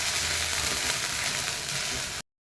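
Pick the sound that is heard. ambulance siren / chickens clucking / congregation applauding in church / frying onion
frying onion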